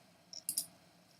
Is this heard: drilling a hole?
no